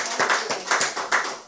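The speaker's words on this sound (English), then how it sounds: "give him a round of applause" Bursts of hand clapping from a crowd, rising and falling in quick waves of applause, fairly close and loud with no voices over it.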